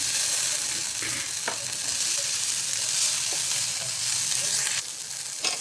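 Curry leaves and half a tomato sizzle steadily in hot oil in a pan, a dense continuous crackle with a few sharper spits and stirring clicks throughout, close and fairly loud with no talking.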